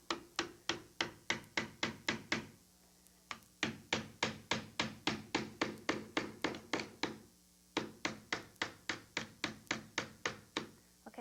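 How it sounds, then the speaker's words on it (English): A hammer drives finishing nails into wooden trim in three close, steady runs of sharp taps, each blow crisp and evenly spaced, with brief pauses between runs and no talking. "I'm going to put in a nail about once every, 10 inches or so."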